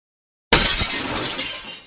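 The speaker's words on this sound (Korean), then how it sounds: "컵이 깨지는 소리가 방 안을 메웠다." A cup drops onto a floor and shatters after a moment of silence, a sudden loud crash that spreads into a lingering, bright tinkle of breaking pieces that slowly fades.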